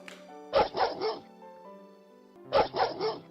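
Dogs bark in a forest, two quick bursts of three barks each, fairly close and loud, with a sustained tonal background underneath.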